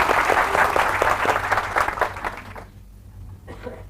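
Audience applause at a sales seminar, a burst of clapping lasting about two and a half seconds before dropping off, followed by a brief voice.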